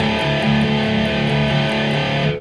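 Sustained guitar notes played without palm muting ring out full and open with a slightly distorted tone, played in a steady pattern before cutting off.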